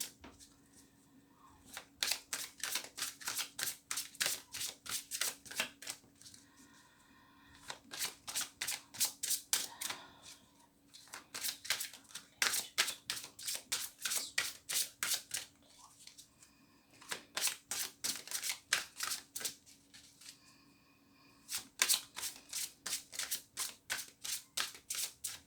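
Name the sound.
shuffling oracle cards to draw an advice card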